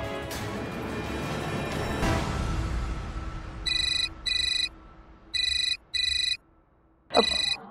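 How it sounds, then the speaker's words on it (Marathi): Phone ringtone for an incoming call, sounding as repeated short bright electronic bursts in a steady pattern after a quieter stretch, loud and close in an indoor scene. "मम्माचा कॉल येतोय."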